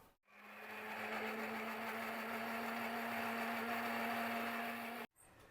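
A mixer grinder blends green chutney with a little water, a steady high whirring motor hum that starts abruptly, runs for about five seconds and then cuts off, loud and close.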